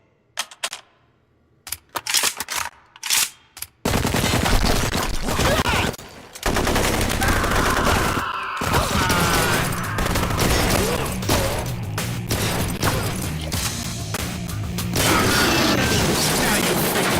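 Gunfire in the shooting video game Blue Estate: a few scattered shots open, then sustained rapid bursts and mechanical clatter continue loudly and almost without pause, with a brief break partway through.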